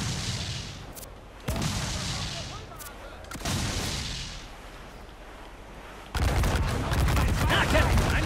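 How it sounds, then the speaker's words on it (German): Ship cannon volley in Assassin's Creed IV Black Flag: a series of heavy booming shots, three distinct blasts spaced a couple of seconds apart with rumbling decay, then a denser crackling barrage at the end. "Eine Salve genau da rein!"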